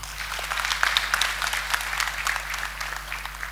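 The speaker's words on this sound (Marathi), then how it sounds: "एकदा टाळ्या होऊन जाऊ दे पहिलं त्याला." An audience at an indoor leadership session claps, a close burst of dense applause that thins out gradually toward the end.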